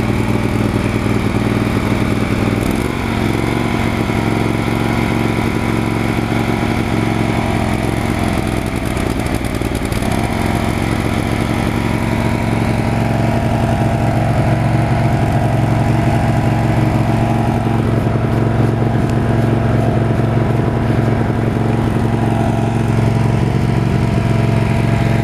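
V-twin riding lawn mower engine, fitted with a new spark plug, runs steadily for the whole stretch with a loud, close, continuous rumble and mechanical clatter, no voices.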